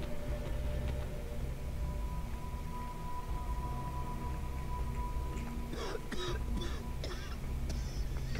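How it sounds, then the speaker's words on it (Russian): In the video game I Am Alive, someone below coughs a few times in short, rough bursts near the end, set against a steady, noisy ambient background. "Кто-то кашляет."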